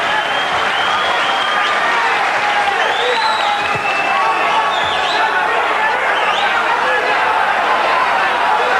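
A crowd at a 1985 ten-round lightweight boxing bout, Edwin Rosario versus Frankie Randell, roars and murmurs in a sustained, loud swell after hard punches land, with a commentator talking over the noise.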